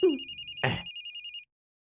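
A telephone rings in a dubbed Hindi South Indian action film, a trilling electronic ring of about eight quick pulses, loud and close, cut through near the start by a brief burst of other noise, then stopping into silence.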